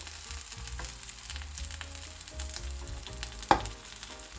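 A kimchi and cheese toastie sizzles in a frying pan, a steady close crackle with the occasional clack of a spatula and no voices.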